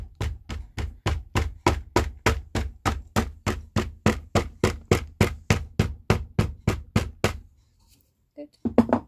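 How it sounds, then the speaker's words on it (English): Steady, rapid hammer blows compact sand for metal casting, pounding about three times per second for several seconds, then stop, followed by a few faint clatters. "Just hammer it."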